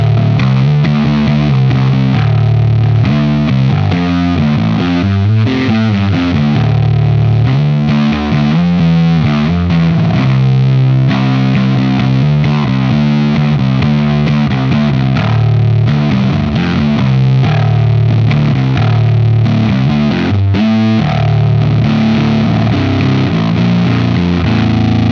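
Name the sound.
jazz bass through Bardic Audio HM Demon distortion pedal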